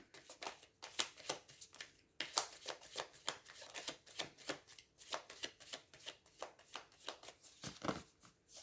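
A deck of oracle cards is shuffled by hand in repeated quick riffles and flicks, a close, fairly quiet rhythmic patter of card slaps.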